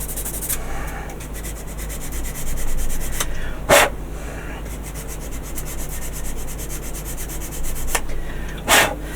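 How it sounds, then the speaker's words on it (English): A foam sanding stick rubs over a small plastic model kit part in steady back-and-forth strokes, a soft continuous scratchy hiss broken by a couple of brief louder scrapes, close by with no talking. "a foamy stick. I don't even know what grit it is I'm using"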